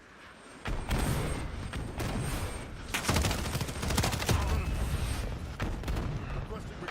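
Artillery strike barrage in Modern Warfare 4 (MW4), a dense run of overlapping blasts and rapid gunfire-like bursts that keeps a loud, sustained rumble going for several seconds, with sharper impacts clustering toward the middle.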